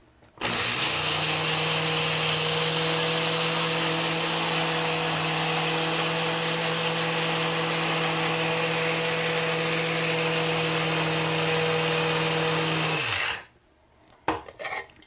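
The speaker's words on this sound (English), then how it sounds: "I need to grind this for about a minute so that they're well ground into very small bits" An electric grinder whirs steadily for about thirteen seconds, grinding recipe ingredients into small bits, a loud continuous motor drone that cuts off abruptly, followed by a few small clinks.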